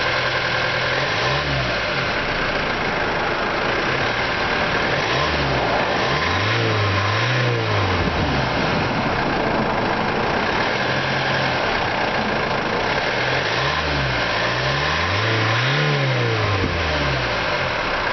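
A 2010 Hyundai ix35 with a 2-liter CRDI common-rail diesel engine accelerates in repeated revving surges, its engine note rising and falling steadily under continuous road and cabin noise.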